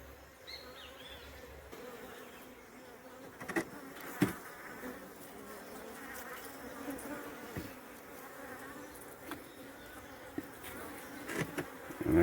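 Honeybees buzz steadily around the entrance hole of a hive colony, a dense continuous drone with individual insects passing close to the microphone, mid-level loudness throughout with a few brief knocks.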